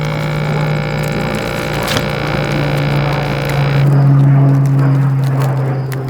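Vacuum sealer pulling air from a bag of steak, powered by an EcoFlow Delta portable power station off-grid, giving a steady close motor hum and drone that swells slightly louder toward the end.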